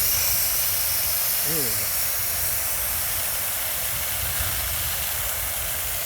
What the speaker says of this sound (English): I want to spray this filter down because I don't want that chemical to be breaking down the fibers